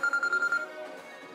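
Mobile phone ringing with an incoming call, a bright electronic ringtone pulsing in quick repeated bursts, then fading into a quieter tail.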